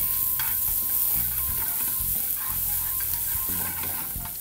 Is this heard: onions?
yes